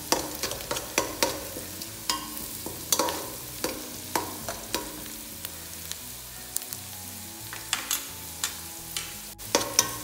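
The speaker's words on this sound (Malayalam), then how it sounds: "ഇളക്കി കൊടുക്കാം." Onion and garlic frying in a pan while being stirred, a quiet steady sizzle punctuated by regular scraping clicks of a spoon against the pan, close by with no talking.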